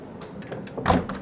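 The side deck door of an Ocean Alexander 32L yacht slides open with a short, soft rolling scrape that ends in a slightly louder thump, close by and without speech.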